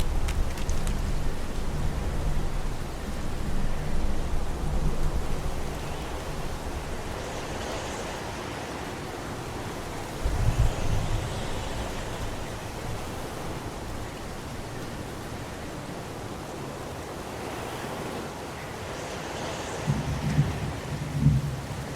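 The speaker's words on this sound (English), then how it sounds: "It's pouring rain. We're gonna get soaked if we spend a day outside." Heavy rain pours steadily in a video game cemetery scene, a dense continuous hiss with low rumbles of thunder swelling around the middle and again near the end, no voices.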